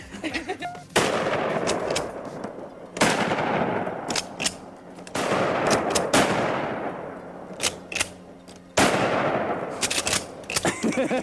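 A sawed-off shotgun fires slugs, four loud, sharp blasts spaced about two seconds apart, each trailing off in a long rumbling echo outdoors.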